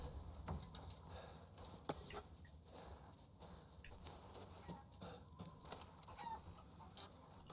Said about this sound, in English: Fucking chickens scaring the shit out of me.